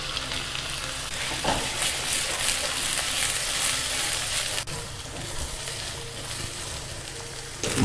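Corn and peas fry in a pan for navratan korma, giving a loud, continuous sizzle with occasional stirring clatter and a sharp click midway.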